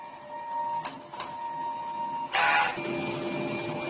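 A DTF printer runs a heat clean maintenance cycle, humming steadily with two brief mechanical clicks and then a louder burst of whirring motion before settling back to a running drone.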